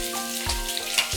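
Shallots sizzle in rendered pork belly fat in a pan during Chinese braised pork belly cooking, a close, steady frying crackle with a couple of stirring scrapes, no voices.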